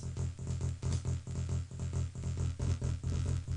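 Psytrance synth bass note layered with its added Max Bass sub-frequency, a dense, rapid rolling low-end pulse thumping steadily and heavily throughout, alone without talk.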